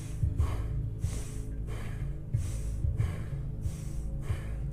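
Rhythmic breaths during a guided morning breathing exercise, several audible exhales and inhales repeating roughly every second, close to the mic over a low steady background hum, with no talking.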